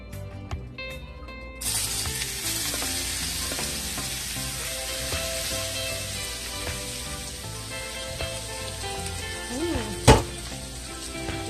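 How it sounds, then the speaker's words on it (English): Portobello mushrooms sautéing over high heat in coconut oil in a pot, a loud sizzle that bursts in suddenly and holds steadily, with faint stirring and one sharp clatter near the end. "we're just gonna saute our mushrooms at this time on relatively high heat"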